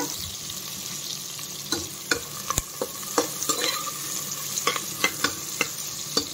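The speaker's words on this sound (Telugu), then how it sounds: "ఇప్పుడు దాంట్లోకి ఉల్లిపాయలు వేసేయండి. ఇది బాగా కొద్దిగా ఏగాలన్నమాట." Chopped onions frying in a pan for spinach rice make a steady close sizzle, broken by regular taps and scrapes of a spatula as they are stirred.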